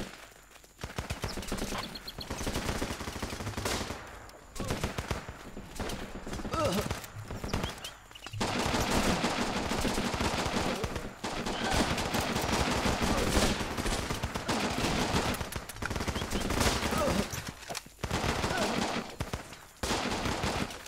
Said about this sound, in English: How about you shoot us now before we can see anywhere near where you are?